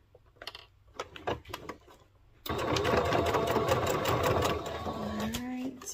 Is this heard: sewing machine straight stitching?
yes